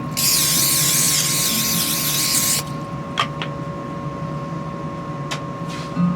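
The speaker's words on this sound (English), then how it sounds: "I'm going to spray it with nonstick spray." Nonstick cooking spray hisses from a can into a casserole dish in one long continuous burst of about two and a half seconds, followed by a few light clicks and knocks in a quiet kitchen.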